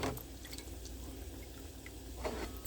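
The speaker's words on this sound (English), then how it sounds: "then I put another cup of water" Water pours steadily into a pot of cooking rice pudding (arroz con dulce), a soft, quiet, continuous splashing trickle with a few faint drips and no talking.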